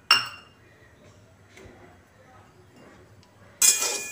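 Moong dal poured into a lightly warmed kadhai, with a bright clattering burst at the start and another sustained rattling pour near the end, quiet between.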